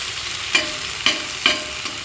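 Fish coated in raw masala sizzling in hot oil in a home kitchen pan, a continuous crackling hiss broken by three sharp clinks as it is turned and stirred, close and without talk.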